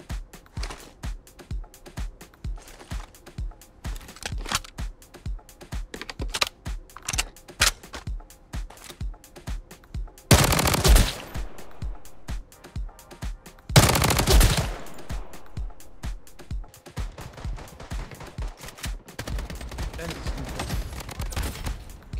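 Rapid MP5 submachine gun fire at a shooting range in the video game Bloodstrike, with short and sustained bursts of crisp shots running throughout and two louder, denser blasts midway.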